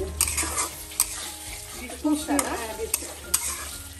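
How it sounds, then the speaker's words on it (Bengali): Kofta frying in a pan, with a steady sizzle broken by repeated clinks and scrapes of a utensil stirring against the metal, all close and with no voices. "কোফতা রান্না করছি, কোফতা ভেজে রান্না করছি।"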